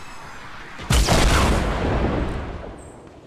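A single loud rocket explosion in the video game Fortnite bursts suddenly, then its rumbling blast slowly fades over the next couple of seconds.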